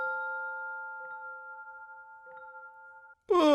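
A sustained, bare celeste chord rings steadily under a delay effect and fades slowly before a brief burst of a different bright sound cuts in at the very end.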